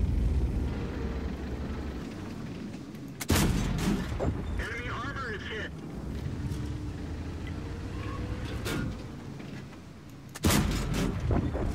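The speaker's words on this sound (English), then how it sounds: "Oh god, that's an explosion in my ears." Heavy booming explosions and gunfire blasts in the tank video game World of Tanks, two especially loud broadband bursts, over a constant rumbling tank engine drone.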